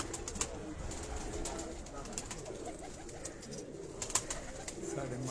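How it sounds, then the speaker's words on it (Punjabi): Lakha breed pigeons from a breeder's loft coo continuously in a low, overlapping murmur, several birds close by with a few sharper calls rising above the steady flock noise. "ਮਲਕ ਇਮਰਾਨ ਸਾਹਿਬ ਹੋਰਾਂ ਦੇ ਲੱਖ ਕਬੂਤਰਾਂ ਨੂੰ ਤੁਹਾਨੂੰ ਸ਼ੋਅ ਕਰਾ ਰਹੇ ਹਾਂ ਜੀ"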